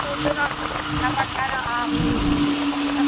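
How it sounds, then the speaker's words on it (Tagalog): Heavy rain pours down steadily on an open tricycle without a tarp while riding along a highway, a dense constant hiss with voices talking over it throughout. "Tapos kita naman sobrang lakas ng ulan."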